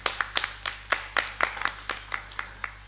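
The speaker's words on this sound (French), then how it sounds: "Est-ce qu'on peut acclamer fortement le Seigneur?" A church congregation claps in a quick, uneven burst of sharp hand claps, fairly faint and without talk.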